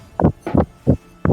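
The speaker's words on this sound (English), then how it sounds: "That's his heart beating." Heartbeat sound effect played during an online tabletop role-playing session: four steady, evenly spaced low thumps, close and fairly loud, with no talking over them.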